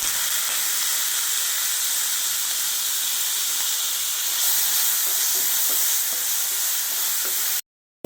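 Coconut pieces, sesame seeds and black raisins fry and brown in a pan with a loud, continuous hissing sizzle and some stirring scrapes, then cut off abruptly into silence.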